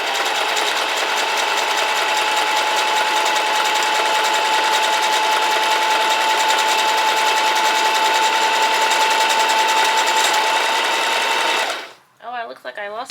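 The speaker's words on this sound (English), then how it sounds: "And then I'm going to zigzag stitch this guy" A Singer Heavy Duty sewing machine runs a zigzag stitch in one steady, close, continuous whir for about twelve seconds, then stops abruptly, leaving brief faint handling noises.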